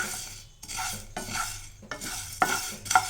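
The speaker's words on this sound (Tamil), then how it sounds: "இப்போ இதை வந்து நல்லா இப்படி வறுத்துக்கலாம் இப்போ இந்த தனியாக நல்லா வறுப்பட்டுச்சு" Coriander seeds dry roasting in a pan for rasam powder rattle and scrape in short bursts as a spatula stirs them, about four sweeping strokes with brief pauses between, close and without talk.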